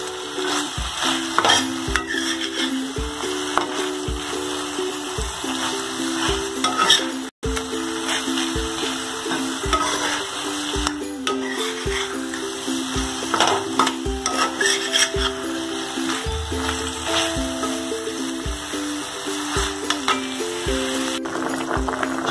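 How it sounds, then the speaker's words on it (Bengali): Masala for Bengali dahi katla frying in a pan with onion, a steady loud sizzle running throughout under repeated rhythmic scrapes of a spatula as it is stirred, with one brief dropout midway. "খুব ভালো করে এটাকে কষাতে হবে।"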